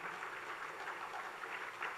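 An audience at a school investiture ceremony claps hands together, a steady dense wash of applause from many people throughout, moderately distant with no voices standing out.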